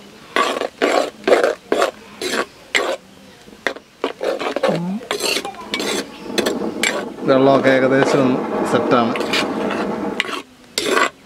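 Pineapple kichadi stirred in a cooking pot with a spoon: quick, rhythmic scraping and clattering strokes, close and fairly loud, then a looser stretch of stirring and bubbling under someone speaking.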